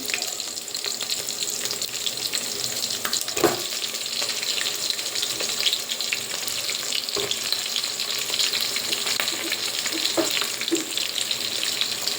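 Bottle gourd pieces cook in a pan for sambar with a steady, close frying sizzle and a few brief knocks as the pieces go in and shift, with no voices.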